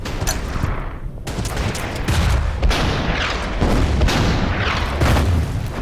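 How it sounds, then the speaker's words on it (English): Mortar fire in the Order of Battle: Winter War strategy game, dense overlapping booms and crackling blasts that roll on continuously and loudly, with no gaps between impacts. "they decide to use the mortars"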